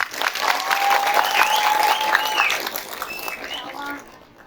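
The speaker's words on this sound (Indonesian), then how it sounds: "Tepuk tangan." A crowd at an Indonesian Maulid Nabi religious gathering breaks into applause, a busy run of clapping with some voices mixed in that stays strong for a few seconds, then fades out near the end.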